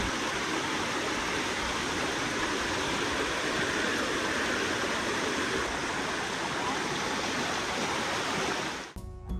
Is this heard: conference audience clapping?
no